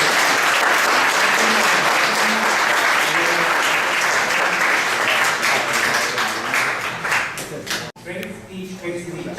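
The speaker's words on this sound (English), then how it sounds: "let's give a round of applause for" Loud, sustained applause from a conference audience after a guest speaker's talk, dense clapping filling the room for about eight seconds before thinning out, with voices murmuring underneath.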